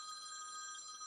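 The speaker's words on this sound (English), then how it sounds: "That's my phone ringing." A brief electronic phone ring, a steady high trilling tone, faint and alone.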